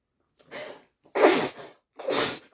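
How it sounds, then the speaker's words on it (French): Three sneezes from one person, spaced about half a second apart, close and fairly loud, each a sharp burst with no other sound between them. "ça fait 10 fois que j'éternue."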